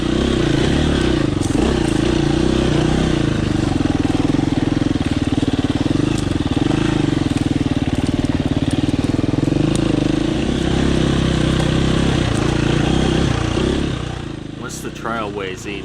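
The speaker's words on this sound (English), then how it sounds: "eventually I finally got the bike out and continued along the trail." KTM dirt bike climbing a steep, mossy new trail with its engine droning loud and steady close by, revs rising and falling, before the sound thins out near the end.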